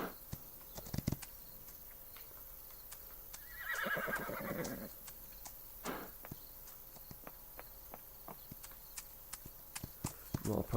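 Horses in the farming game Farm Together, a whinnying neigh rising over scattered crisp hoof clip-clops and small ticking game sounds, fairly faint and spread out.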